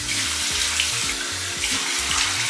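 Tap water runs steadily into a sink while a face is rinsed during a skincare routine, a close, continuous splashing flow with no talking.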